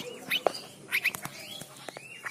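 A young three-month-old straw-headed bulbul (cucak rowo) chirps in several short, scattered notes against faint room noise, close but fairly soft.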